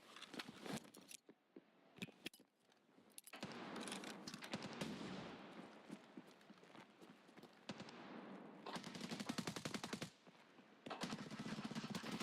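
Rapid automatic gunfire in Escape From Tarkov, sustained bursts of sharp cracks at close range with brief pauses between volleys, loud and dense.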